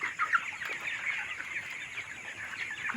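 Broiler chickens cluck and chatter in a steady, moderately close flock, with a few sharper calls standing out early on and no talk.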